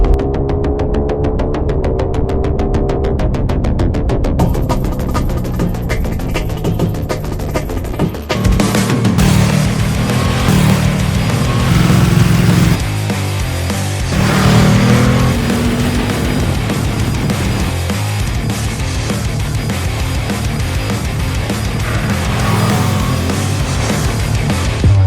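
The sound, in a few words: Ducati Streetfighter V2 motorcycle riding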